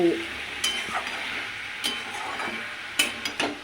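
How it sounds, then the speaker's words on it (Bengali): Pointed gourd curry cooking in a pan with a steady sizzle and frying crackle, with a few sharp scrapes and clinks of a stirring spoon, close and fairly loud, with no talk. "দেখছো পটলের তরকারি করছি বেশি কিছু মশলা দিই অল্প"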